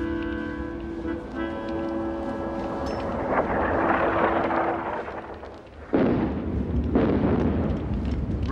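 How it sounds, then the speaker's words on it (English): Artillery ranging shots explode in a World War I battle scene from a war video game, with heavy distant rumbling and two sharper, louder blasts near the end over a low musical drone. "Ranging shots."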